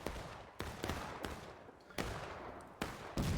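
Rifle gunfire in a historical-rules video game battle: sharp, distinct shots crack out at irregular intervals, about seven in three seconds, some close and loud, others more distant, with no voices.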